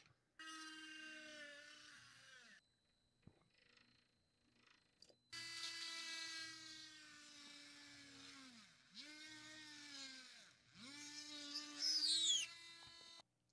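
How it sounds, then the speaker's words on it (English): A small drill bit bores hook holes into a fishing lure, its motor whining in a thin, buzzing tone that dips in pitch each time it bites, in quiet separate bursts with short pauses. "we're just going to take our drill bit and drill all the holes where we want the hooks"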